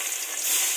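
Garlic hits hot oil in a pan of kangkong adobo, giving a steady, close, bright sizzle that holds at an even loudness for under a second with no voices.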